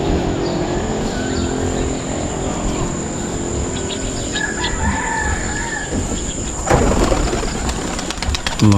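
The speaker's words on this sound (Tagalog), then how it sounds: "Mga kalapati ko." Domestic racing pigeons coo close by in a rooftop setting, with other fowl calls mixed in, over a busy outdoor background.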